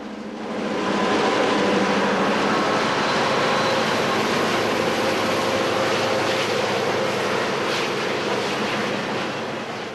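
Western Pacific F-unit diesel locomotives with non-turbocharged EMD 567 engines pull a train, a loud sustained rumbling roar that swells in after a second and holds steady, with no voices.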